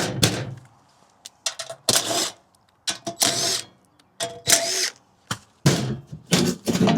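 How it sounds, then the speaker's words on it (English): Power tool backing screws out of an air conditioner's compressor section panel, short bursts of drill whirring repeated with pauses between, close and fairly loud, no voices. "So I'm going to take off the panel for the compressor section."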